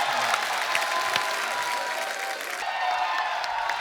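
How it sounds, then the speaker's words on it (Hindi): A studio audience on a Kapil comedy show gives Tiger Shroff sustained, loud applause, with dense clapping and faint crowd noise throughout. "टाइगर के लिए जोरदार तालियां."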